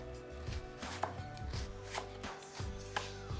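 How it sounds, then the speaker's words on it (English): Knife slicing through produce on a cutting board in quick succession, about a dozen crisp close chops in a steady rhythm, with no voices. "now we can radial cut it and keep the slices even and nice and thin"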